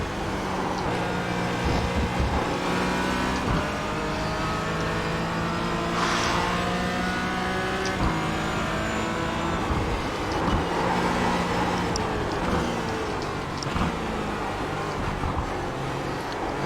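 Engine of a Porsche GT4 race car in the iRacing game, driven at Summit Point and Laguna Seca: a steady loud engine note climbs through the revs and drops back at each gear shift, continuous throughout with no talking.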